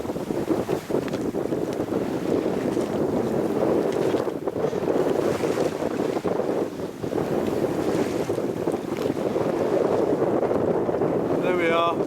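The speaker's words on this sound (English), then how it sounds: "Pretty much hard on the wind now. Got a westerly wind and we're heading southwest." A strong westerly wind batters a small sailing yacht heading southwest, close-hauled off the Moray Firth coast: a continuous roaring rush of wind buffeting the microphone, mixed with water noise and hull sounds, with no gaps.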